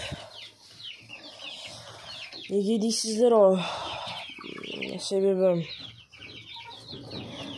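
Small chicks cheep in high, busy chirps while someone talks over them, with a few louder clucking calls standing out.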